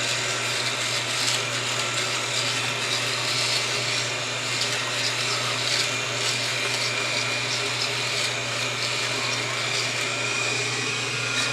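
A cheap Flyco FS306US electric shaver runs close by with a steady, even motor hum and faint buzzing overtones, continuous throughout without any talking.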